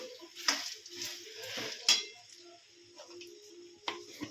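A spoon stirs homemade chevdo of puffed grains and roasted chana in a pan, giving a few sharp metallic clinks and knocks against the pan with light scraping in between, close and fairly quiet.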